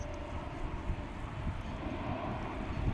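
American Airlines airliner departing Dallas/Fort Worth Airport, a steady broadband jet roar at moderate distance, even and unbroken with a faint wind rumble underneath.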